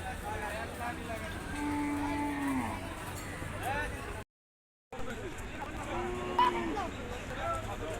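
A cow lows at a busy Qurbani cattle market. The moo is brief and moderately near, heard over constant crowd chatter and background bustle, with people talking throughout.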